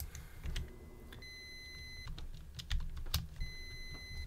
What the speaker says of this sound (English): Is my oven beeping?